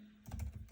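Computer keyboard typing, a short burst of several soft keystrokes close by after a moment of quiet, fairly faint with no talking.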